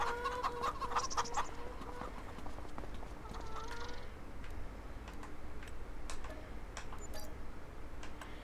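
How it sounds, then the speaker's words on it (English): Chickens cluck in the farming video game Farming Simulator 25, a steady murmur of clucks and short calls at moderate volume over constant background ambience, with no talk. "So we do have our chickens up and running."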